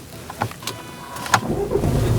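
A Range Rover Evoque with a steering fault being switched off and restarted: a few short clicks and knocks, then the engine catches and settles into a low, close idle.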